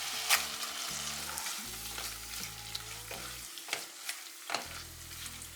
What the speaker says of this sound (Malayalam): ഇനി നമുക്ക് ഇതിലേക്ക് പ്രോൺസ് ഇട്ട് കൊടുക്കാം.